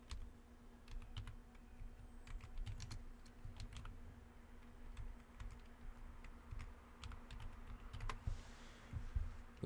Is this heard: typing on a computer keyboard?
yes